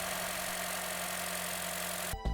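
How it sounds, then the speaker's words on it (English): A used Honda Jazz engine idles steadily close up, an even mechanical hum with a faint ticking from valve clearance, ending in a brief knock as the recording stops. "Listening to the engine, this sounds quite normal, maybe a tiny bit of valve clearance tick."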